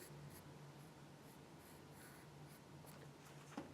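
A pencil drawing lines on paper, a faint soft scratching that runs almost continuously with light strokes, a quick sharper tap near the end, and no voices.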